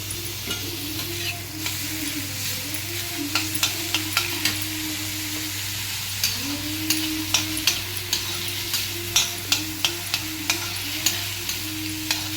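Garam masala, tomato and onion fry in a pan for rajma curry, giving a steady soft sizzle under repeated light scrapes and clicks of a spoon stirring, close and fairly quiet, with no talk.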